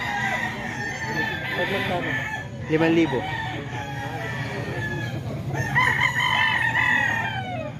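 Banded roosters crow repeatedly among a flock of chickens, several overlapping calls rising near and loud with clucking between, while someone talks throughout.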